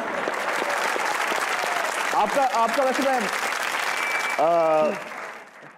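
Steady studio audience applause at a comedy talk show fills the room throughout, with someone speaking briefly over it before the clapping fades at the end.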